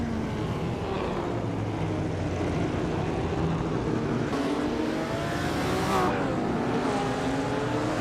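A 1955 Maserati 300 race car in a racing video game, its engine droning steadily and loudly with a rising, whining pitch as it accelerates, the sound continuous and close with no voices over it.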